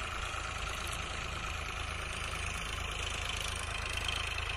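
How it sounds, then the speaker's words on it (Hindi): Eicher 551 tractor engine idling steadily while pulling a laser land leveler across a field, a constant close mid-low drone with no pauses and no voices. "551 ट्रैक्टर बना है जो कि साईं भैया चला रहे हैं।"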